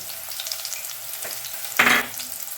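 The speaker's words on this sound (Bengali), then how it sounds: "পেঁয়াজটা আমার ভাজা ভাজা হয়ে গিয়েছে" Chopped onion frying in oil in a pan for noodles, a soft continuous sizzle with a sudden louder hiss and stir near the end, close and alone.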